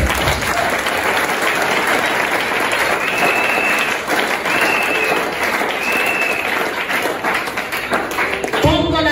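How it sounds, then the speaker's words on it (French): A church congregation claps loudly and steadily for the Lord, a thick, continuous roar of applause filling the space close by, with a few voices mixed in near the end. "On acclame le Seigneur."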